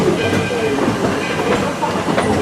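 A train on the Walt Disney World Railroad rolls into Fantasyland Station with rumbling wheels and faint clattering on the rails, moving at low speed close by.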